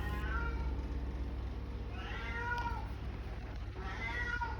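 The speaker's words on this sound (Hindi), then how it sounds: "पूरा घर इस बिल्ले ने अपनी म्याऊ म्याऊ पे उठाया था।" A male cat meows indoors, with two drawn-out, rising-then-falling meows spaced a couple of seconds apart over a steady low background hum, close and fairly clear.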